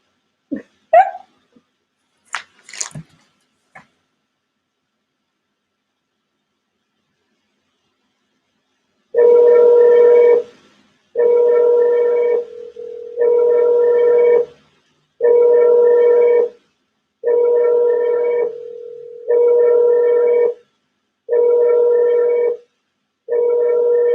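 A handset plays a repeated ringback or dial tone, evenly spaced beeps after a few brief clicks of dialing at the start, clear and close with no talk.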